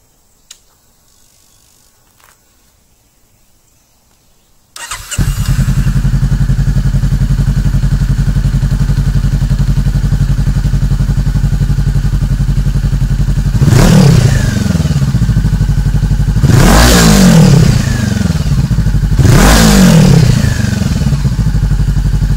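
A Honda CBR500R fitted with a Danmoto exhaust starts up and idles loudly and steadily. It is then revved hard three times toward 7,000 RPM, each rev a sharp rising roar that falls back to idle.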